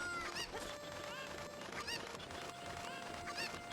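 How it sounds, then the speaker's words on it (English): Chickens cluck repeatedly in the video game The Legend of Zelda: Ocarina of Time, with short rising squawks recurring over a steady, busy game soundtrack at low volume. "he's going to round up the last 3 chickens that he needs."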